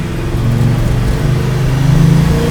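A classic Chevy Chevelle with a 900HP engine runs nearby, a deep loud rumbling idle with a slight rise in revs toward the end, steady and alone with no talk.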